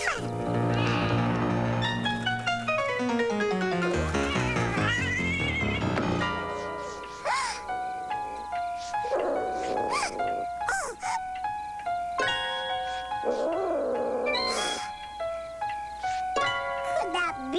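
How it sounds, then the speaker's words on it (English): A cat on the first floor of a house meows several times, short, clear cries scattered over busy, loud orchestral music. "Yikes, a cat."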